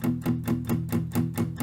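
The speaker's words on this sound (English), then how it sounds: "it's very easy to strum the top 3 strings" Quick rhythmic strums across the top three strings of a guitar, about eight evenly spaced strokes in under two seconds, close but fairly soft and heard alone.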